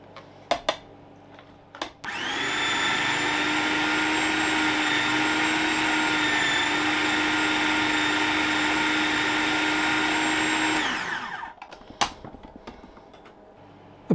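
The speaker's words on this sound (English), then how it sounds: "give it all a good blitzing until it's down to a puree consistency" A food processor blitzes mushrooms and mascarpone into a creamy puree, a loud steady whirring roar that starts abruptly and runs for about nine seconds before winding down, with a few knocks before and after.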